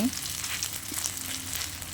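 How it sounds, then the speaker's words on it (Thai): Corn fritter batter made without flour or egg sizzles steadily in hot oil in a pan, a close, even crackling hiss throughout. "น้ำมันให้ร้อนนะคะ เราก็จะใส่ข้าวโพด ที่เราผสมไว้นะคะลงไปในนี้นะคะ"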